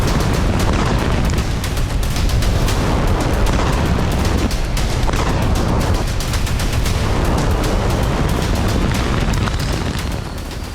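Explosions and heavy gunfire-like booms roll continuously over Tel Aviv, Israel, during Iranian missile attacks, loud and dense for the whole stretch with no pause.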